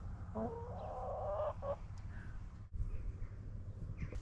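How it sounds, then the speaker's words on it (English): Chickens cluck softly outdoors at a campsite, a few close, quiet clucks and a brief squawk over a steady low background hum. "I found the chickens now."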